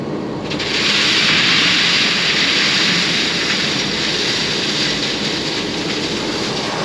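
A big front end wheel loader pushes a string of railroad cars, heard as a loud, steady broadband rumble and hiss of engine and rolling cars close by, sustained without pause and with no talk over it.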